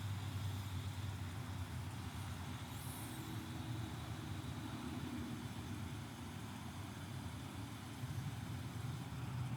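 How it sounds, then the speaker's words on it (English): Air suspension on a 2021 Chevy Suburban High Country vents as the truck lowers, a steady hissing rush over a low engine idle that continues throughout. "You hear those bags dumping now?"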